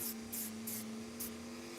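Drum sander working foam: a steady motor hum runs throughout, with four rhythmic bursts of soft rasping as the spinning drum scuffs the foam, close and quiet.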